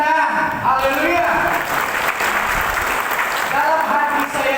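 A church congregation at a worship service breaks into a short burst of clapping, with a voice speaking before and after it.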